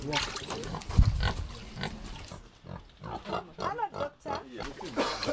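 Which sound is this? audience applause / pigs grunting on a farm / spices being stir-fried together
pigs grunting on a farm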